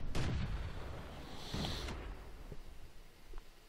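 Artillery gun firing in the tank game World of Tanks, a self-propelled AMX 105 AM mle 47 on the Ensk map: one sharp boom with a brief crack at the start, then a second, softer thump and fading rumble.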